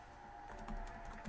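A computer keyboard clatters in a quick burst of soft, close keystrokes over a faint steady hum, with no voices.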